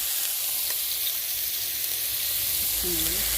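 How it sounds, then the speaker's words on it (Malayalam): Washed eggplant sautés in a hot pan for a kichadi. A steady, bright hiss continues unbroken, with a faint low murmur surfacing briefly near the close. "അതിലേക്ക് കഴുകി വെച്ചിരിക്കുന്ന വഴുതനങ്ങ ഇടുന്നുണ്ട്. നന്നായിട്ട് ആവശ്യത്തിന് ചേർത്ത് വഴറ്റിയെടുക്കാം"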